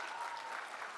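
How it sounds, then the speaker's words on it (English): A brief, dense burst of audience applause at a conference session, steady and moderately distant, lasting about a second. "Just from the round of applause."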